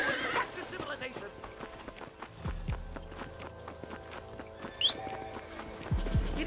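Horse neighs and pounding gallop hooves in the Red Dead Redemption video game, a whinny near the start and again later over rhythmic clip-clop, with people talking throughout.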